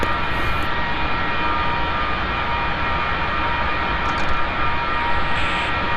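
An F-4 Phantom jet in the DCS flight simulator taxiing for takeoff, a loud, steady engine whine and roar holding constant throughout, with no talk over it.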